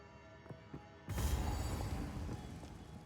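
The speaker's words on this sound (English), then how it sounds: "Big blue explosions." A spell explosion in Path of Exile 2 erupts suddenly after a few quiet clicks, a loud crackling blast with a deep rumble that keeps roaring and slowly settles over the next couple of seconds.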